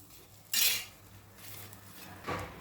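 Leftover jowar bhakri pieces are stirred with oil and salt in a pan, giving two sharp metallic scrapes and clinks of a utensil against the vessel, separated by a quieter stretch, close and isolated.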